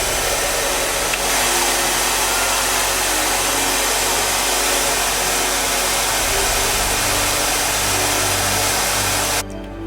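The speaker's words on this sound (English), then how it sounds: "So I'm gonna come back with a blow dryer and I'm gonna blow dry this" A blow dryer runs steadily, close and loud, drying homemade paper candy corn bedding, a continuous airy roar that cuts off just before the end.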